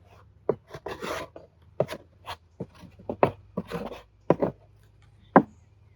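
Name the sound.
scraping beeswax off beehive equipment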